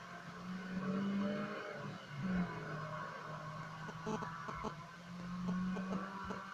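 A Lada Priora in a Need for Speed game builds engine revs in a rising, steady drone at moderate distance. The pitch swells and dips as the car accelerates and eases off, with some faint clatter near the end.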